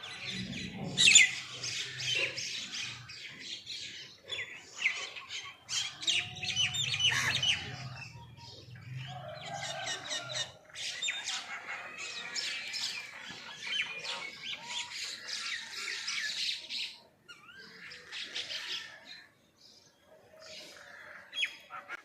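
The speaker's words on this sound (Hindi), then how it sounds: "इन परिंदों की आवाज़ें इतनी प्यारी हैं" Birds chirp and squawk continuously from a tree, a busy overlapping chorus of bright calls with no talking.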